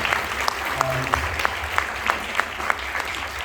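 A small awards-ceremony audience claps sparsely, with separate claps at a fairly regular pace over a low murmur of background noise.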